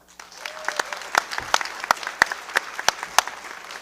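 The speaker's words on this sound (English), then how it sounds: "Join me in a round of applause thanking Kathy for all that she does." Applause for Kathy Nichols, 2025 Excellence in Public Service award recipient, at a city council meeting: a modest audience claps steadily, with sharp individual claps standing out close by, and no talk over it.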